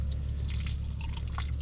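Water flushing out of an irrigation line during a muddy repair, a steady rushing flow with dripping and splashing, close and continuous over low rumble.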